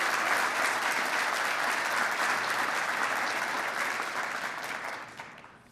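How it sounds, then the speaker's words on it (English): An audience applauds steadily at a fire department awards ceremony, a dense wash of many hands clapping that holds level and then fades toward the end. "Please join me in giving him a well-deserved round of applause"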